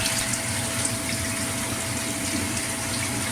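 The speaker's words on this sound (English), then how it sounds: "I have the hose in my measuring tank" Water from a hose pours steadily into a measuring tank in a basement, a loud, continuous gushing rush with no break and no voices.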